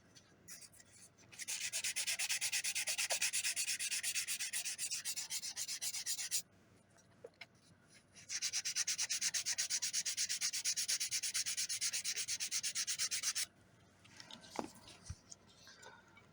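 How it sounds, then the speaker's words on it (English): A homemade wooden topwater lure being sanded by hand with 150 grit sandpaper, heard as two long stretches of rapid, even, rasping strokes up close, separated by a brief pause, then a few scattered taps and scrapes. "Time to sand. This is around like 150 grit."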